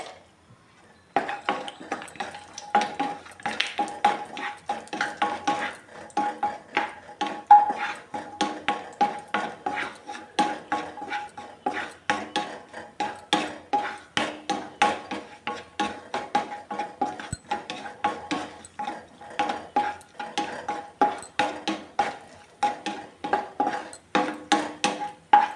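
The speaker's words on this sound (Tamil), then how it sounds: "இப்போ முந்திரி வறுத்து எடுத்துக்கலாம்." Cashews roast in a pan for banana halwa, a long run of quick rhythmic spoon scrapes and taps against the pan over a faint sizzle, close and steady, with no voices.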